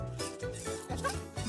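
A toy robot dog gives short yapping barks in quick bursts, close and fairly loud, with electronic warbling tones between them.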